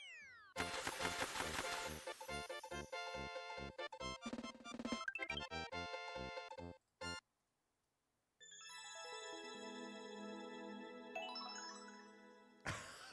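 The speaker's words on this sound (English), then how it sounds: "No, you can still hear the farting cat." Quirky cat-themed sound effects in a Super Mario Maker 2 level: repeated tonal meows and jingly, ringtone-like chimes in bursts, a brief pause, then a rising sweep of tones, with no talking.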